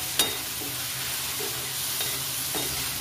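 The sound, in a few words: chicken frying in a pan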